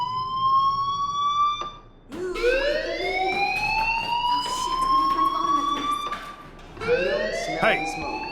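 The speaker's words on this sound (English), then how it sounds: "Hey, do you hear that fire alarm?" A fire alarm in the video game Life is Strange Remastered wails in rising electronic sweeps, loud and repeating for several seconds with a brief break, sounding alone without speech.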